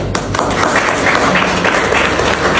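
A dense wash of crowd cheering and clapping at a sports march in Cameroon, loud and continuous throughout, with no single voice standing out.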